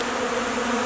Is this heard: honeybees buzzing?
yes